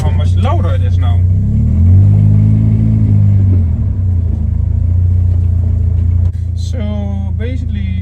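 A Toyota MR2 Spyder with a swapped JDM K24A engine is held at 2500 RPM on a dyno, giving a loud, steady exhaust drone that swells briefly mid-clip, with short vocal sounds at the start and end.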